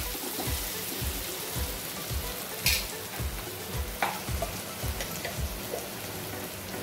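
Onion and tomato fry in a pan for a raw jackfruit curry, with a steady sizzle throughout. A spoon stirs and scrapes the pan in a regular rhythm, and a few sharp ticks and pops break through.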